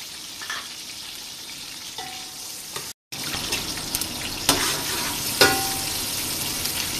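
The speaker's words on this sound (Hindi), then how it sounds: "जिसके अंदर हम चिकन को फ्राई कर लेंगे।" Chicken frying in hot oil, a steady soft sizzle broken by a few sharp clicks and splashes, with one brief moment of silence midway and no talking.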